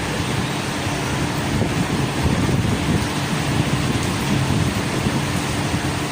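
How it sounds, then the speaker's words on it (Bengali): Heavy rain falls steadily as a dense, continuous broadband hiss, loud and unbroken throughout, with no voices over it. "আর দেখেন কি বৃষ্টি হচ্ছে"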